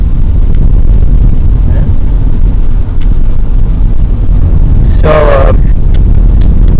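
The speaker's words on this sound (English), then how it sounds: "we've been taking a 7-minute drive now" Steady road rumble and wind noise fill the cabin of a 2004 Chrysler Town & Country on the move, a constant low drone with someone speaking briefly over it.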